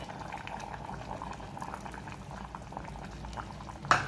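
Mutton curry with thick first-press coconut milk bubbles at a gentle simmer, a close steady burble of popping bubbles with a slightly louder splash at the end.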